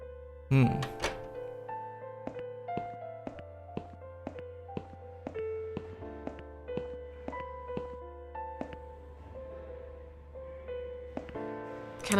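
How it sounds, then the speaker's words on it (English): A toilet lid closes with a single soft thunk at the start, followed by a quiet, rhythmic run of plucked musical notes. "Close lid."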